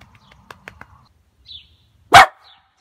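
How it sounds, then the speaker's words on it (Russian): A single sharp, close dog bark stands out after faint scattered clicks and light household sounds indoors, loud against an otherwise quiet background. "Да ладно тебе, не гавкай."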